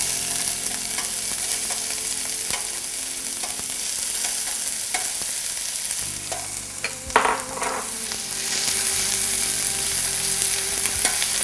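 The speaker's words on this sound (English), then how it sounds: "And next in goes the chopped onion." Chopped onion hits hot oil in a pan for a chicken curry, a steady broad sizzle throughout, with a brief stir and clatter near the end before the frying grows slightly louder.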